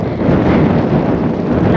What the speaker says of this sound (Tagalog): Hindi siya malamig mga maninay, pero malakas yung hangin.